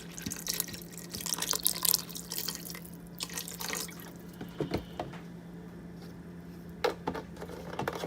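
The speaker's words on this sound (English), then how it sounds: "The next ingredient's chicken broth. It's 1 carb per cup, so I'm going to add about a cup." Chicken broth trickles and splashes into a pot of soup in short pours, with soft drips and light clinks, close and fairly quiet.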